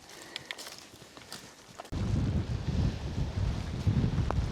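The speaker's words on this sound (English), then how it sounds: "The wind is ripping." Strong wind roars into the microphone in heavy buffeting gusts on a rainy ridge, surging louder partway through and staying rough and loud to the end.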